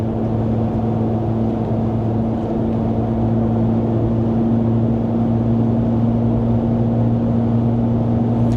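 A Ram RHO truck fitted with an AWE exhaust, heard from inside the cab while accelerating above 2,000 RPM, gives a loud, steady low engine and exhaust drone with a constant hum and no voices.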